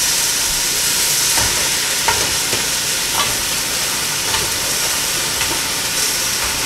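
Pieces of pork tossed into a hot pot for kimchi jjigae, giving a loud, steady sizzling hiss with faint scattered ticks and pops throughout, close and continuous with no talking.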